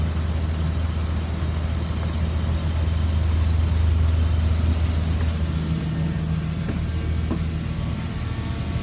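Engine of a 2004 Blue Bird All American 72-passenger school bus that blows white smoke, a loud, steady low diesel rumble running continuously without change in pace, heard close up.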